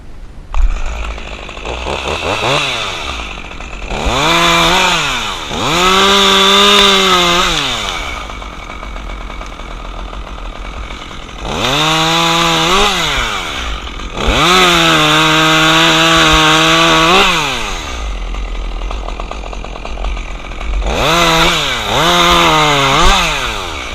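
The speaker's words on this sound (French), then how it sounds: "c'est la tronçonneuse" A chainsaw revving and cutting wood at a palombière, loud and close, in three bursts of rising, falling engine whine with idle gaps between them.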